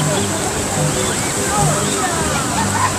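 People splash and wade in a river at five in the morning during an Easter bathing custom, a steady broad wash of water and sloshing close by, with voices talking and calling over it throughout.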